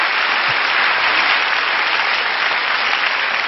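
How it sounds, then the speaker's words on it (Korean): Studio audience applauding at a televised music talk show recording, a steady, dense wash of clapping that holds evenly for several seconds with no talk over it. "축하의 박수를 한번 보내주시죠."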